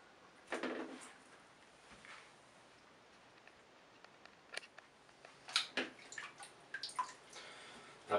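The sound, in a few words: waterproof pocket video camera recording in water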